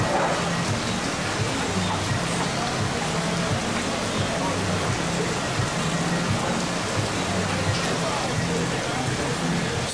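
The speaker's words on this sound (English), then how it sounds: "Oh, it just keeps downpouring." Heavy rain pours down during a thunderstorm at a theme park, a dense, continuous hiss of water hitting surfaces close by, with people talking faintly underneath.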